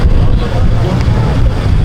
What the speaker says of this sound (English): people got some loud ass cars.